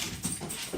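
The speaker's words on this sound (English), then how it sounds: "There's a dog walking by" A dog walking past at night, heard as soft, faint pawsteps and movement against steady background noise, a brief close passing sound with no speech.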